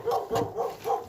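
A dog at a house up for renovation gives four quick, close barks in an even rhythm.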